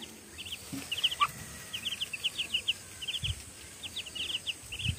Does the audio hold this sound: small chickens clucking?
yes